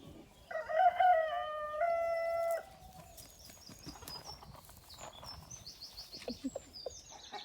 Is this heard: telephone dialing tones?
no